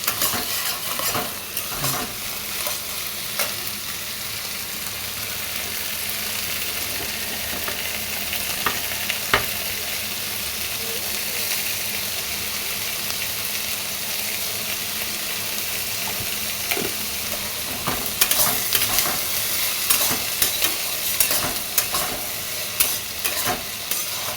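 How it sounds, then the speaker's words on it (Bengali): Vegetables frying in a pan, heard as a loud continuous sizzle with repeated stirring scrapes and occasional clatters, close up and with no talking. "এদিকে সবজিটা ভেজে তুলে নিব আগে"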